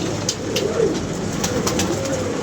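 Kasuri pigeons coo steadily in the background, soft overlapping calls repeating through a continuous hum of ambient noise.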